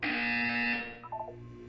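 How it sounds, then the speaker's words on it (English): A loud, harsh buzzer from the game Portal 2 blares steadily for just under a second, then cuts off, leaving a brief quieter electronic trill and a low background hum. "When you hear the buzzer, look down at the floor."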